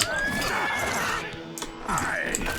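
A horse in Oblivion Remastered is being killed and lets out shrill, wavering neighs over about two seconds, with clattering hits mixed in and a brief dip before a final cry.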